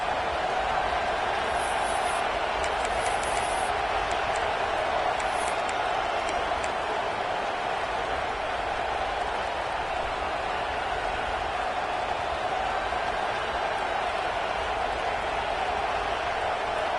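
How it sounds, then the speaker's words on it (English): Steady, dense roar of a football stadium crowd, a constant wash of massed voices with faint whistles near the start, holding level throughout. "This crowd going to try to make life miserable for these guys."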